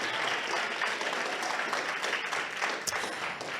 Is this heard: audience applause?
yes